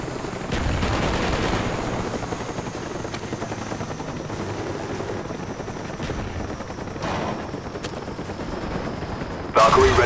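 A Cobra attack helicopter drones loudly in Call of Duty Black Ops, with bursts of gunfire and explosions cracking over the constant rotor noise through a team deathmatch.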